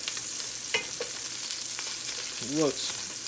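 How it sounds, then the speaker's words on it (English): Sausage frying in a pan for a seafood feijoada, a steady close sizzle with brief stirring scrapes and a short tonal clatter near the end. "we really want to fry these up, get some nice color and caramelization from here"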